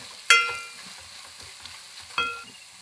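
Onions frying with curry leaves and turmeric for a hotel-style mutton curry, stirred in a pan: a steady low sizzle with two sharp scraping clinks of the spoon against the pan, close and alone.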